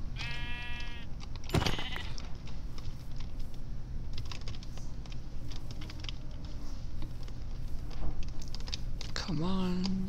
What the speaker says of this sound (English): Oh, let's kill the sheep.